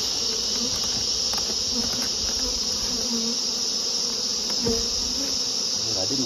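Honeybees swarm loudly around the opened Crossmaglen beehive, a dense, continuous close-up buzz of many insects with no talking.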